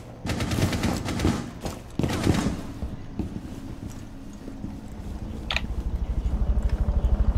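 Shotgun fire in Rainbow Six Siege, several loud blasts at the start with later distant shots, then a rapid rhythmic clatter building toward the end.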